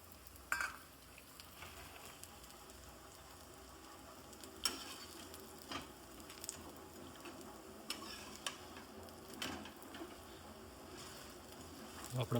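Pudla, thin gram-flour pancakes, fry on a hot pan with a steady soft sizzle, with scattered clicks and scrapes of a spatula turning them, close by and at low level.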